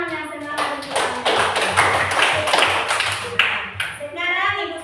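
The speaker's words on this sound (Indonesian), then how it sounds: "Kita kasih tepuk tangan yang semangat untuk Anda." A small group in a classroom claps for a few seconds, a short burst of applause with a voice just before and after.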